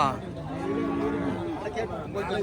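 Cattle at the Pochampalli cow market in Krishnagiri give a long, drawn-out moo close by, while people talk throughout and market chatter fills the background.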